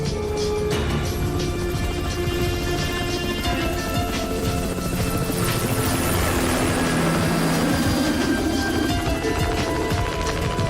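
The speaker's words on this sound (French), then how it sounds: "L'hélicoptère est presque sur nous." A helicopter's rotor thumps loud and steady, the chopping drone swelling as it closes in, with engine whine layered over the beat.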